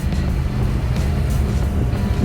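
A 1955 Chevy with an LS engine and 6-speed drives past, a steady low engine rumble and road roar heard outdoors at moderate loudness with no voices.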